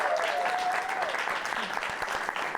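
A studio audience at a live comedy talk show applauds in a steady, dense wash of clapping, with faint voices and whoops mixed underneath.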